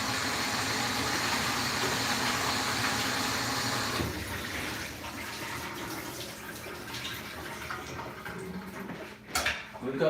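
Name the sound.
tap water running, rinsing a jalapeno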